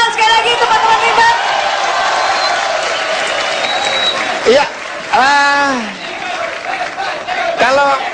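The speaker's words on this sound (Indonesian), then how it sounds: "Tepuk tangan sekali lagi teman-teman Limbat." A show crowd applauds and cheers loudly and continuously, with an announcer's voice over the noise and a brief rising whoop partway through.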